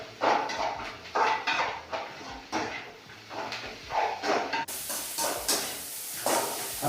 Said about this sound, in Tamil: உப்பு சேர்த்துட்டு இதே நல்லா கிண்டி விடலாம்.